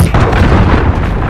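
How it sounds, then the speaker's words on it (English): A cruise missile strike in Call of Duty Modern Warfare, on the Cheshire Park map, lands as a loud, continuous rumbling blast of dense booming explosions that fills the whole moment. "Allied cruise missile away"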